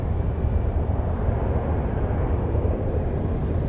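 Cargo airplane passing overhead at Anchorage airport bound for Beijing, a steady loud jet engine roar with broadband rumble that holds constant throughout, no voices.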